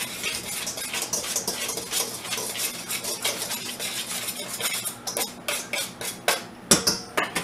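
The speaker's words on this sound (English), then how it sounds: "Give that a good whisk and mix." A whisk beats flour and spices together in a large bowl, a close, rapid, rhythmic metallic clatter against the bowl that runs steadily and ends in a few heavier taps.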